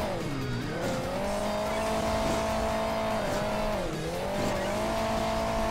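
A rally car's engine drones and revs in the Hill Climb Racing 2 video game, its pitch rising and dipping twice as it drives on, steady and continuous with no talking.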